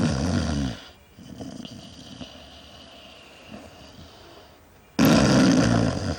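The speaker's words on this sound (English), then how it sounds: "It is called snoring, a sound resulting from turbulent airflow that causes the tissues of the nose and throat to vibrate during sleep." A sleeping person snores in a bursty, growling rhythm, with loud rasping blasts at the start and end and quieter, rougher breaths between them, close to the microphone and with no talking.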